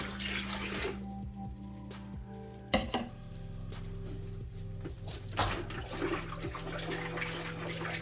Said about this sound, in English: I'm going to use a measuring cup and just going to throw some water in and swish it around.